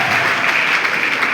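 A church congregation breaks into steady, dense applause, loud and close, filling the whole short stretch with a uniform roar of clapping hands.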